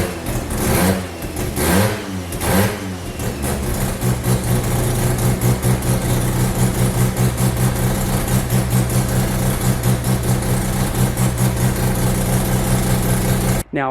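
A Mazda RX7 rotary engine runs close up. It starts with a few sharp revs, then settles into a loud, steady, pulsing idle that continues to the end.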